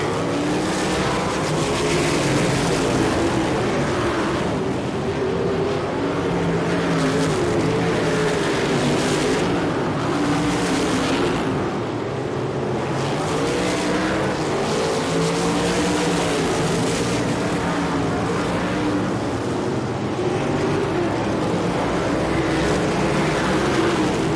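USAC sprint cars, Midgets and Silver Crown cars race at the 4 Crown Nationals, with engines screaming down the straightaways. A dense, continuous roar of several cars runs for the whole stretch, loud and steady, with rising and falling waves as cars pass.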